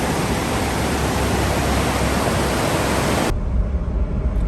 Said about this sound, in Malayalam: ഒരു പുഴ ഒഴുകുന്നത്